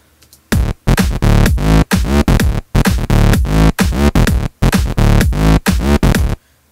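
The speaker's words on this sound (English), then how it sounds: "how to make a nice electro house bass line, very standard type sound, with the ES2" Gritty saw-wave electro house bass line from the Logic ES2 synth, a loud looping riff of chopped, punchy notes with short gaps between phrases, heard alone without any talking.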